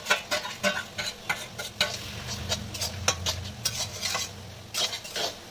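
Fried shrimp being stirred into dhemni greens in a pan, with a spatula scraping and clinking against the metal in irregular strokes over a soft, continuous sizzle.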